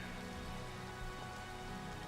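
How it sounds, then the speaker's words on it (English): Steady Minecraft daytime rain hisses evenly across the whole stretch, a soft continuous patter with no voices and no thunder. "It is raining in the daytime."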